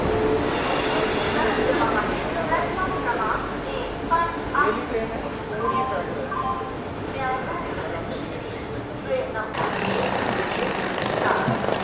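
The Bandra–Jamnagar Humsafar train pulls into a station, with loud rolling wagons, clicking wheels and high squeals from the wheels as it slows, while people talk nearby.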